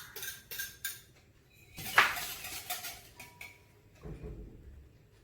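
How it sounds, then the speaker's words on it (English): Two eggs are beaten by hand in a bowl, a run of quick clinking taps and scrapes of utensil against the bowl, light and close with short pauses between strokes. "First you take your 2 eggs and just beat them till it is frothy."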